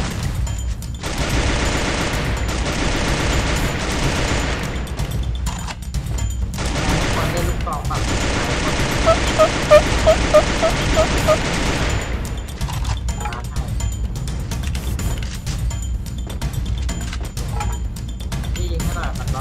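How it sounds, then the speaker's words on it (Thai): Gunfire in the Free Fire video game rattles in dense bursts and sustained volleys, including shotgun shots, with loud, continuous action sounds and a player talking over the top. "พี่เอาลูกซองยิงมันอ่ะ"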